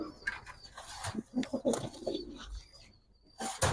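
Soft, throaty cooing of Giribaz pigeons repeats close by, with faint rustling and a few higher chirps in the background.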